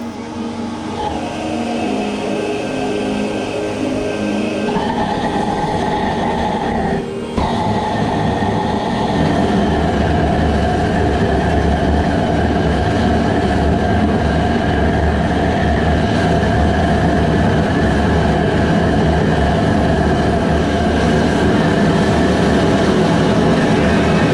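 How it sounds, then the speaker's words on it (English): Foundry burner for melting cast iron, fed by a 6 hp air compressor, roars loudly and steadily, a continuous forceful rushing blast that shifts pitch slightly near the start and then holds unbroken throughout. "Okay, so I just hooked up a 6 horsepower air compressor."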